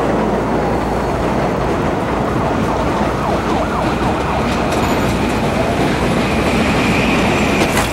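A train rumbles in the Battlefield 3 video game, a loud continuous roar of wheels and rolling stock with a siren-like wail mixed in, sustained throughout without any speech.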